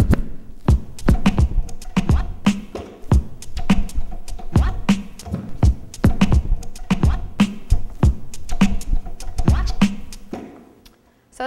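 Turntable scratching a vinyl record woven between the beats of a drum loop, with rapid back-and-forth scratches riding over a steady, loud rhythm that fades out at the end.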